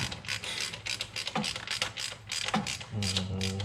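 An impact wrench hammers a coilover spring bolt on a Honda Civic hatchback, making rapid, loud, clattering mechanical bursts in quick succession, close by, with a steadier whirring tail at the end.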